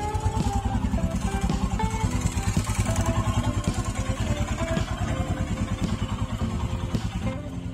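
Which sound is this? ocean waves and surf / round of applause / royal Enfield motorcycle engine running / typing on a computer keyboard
royal Enfield motorcycle engine running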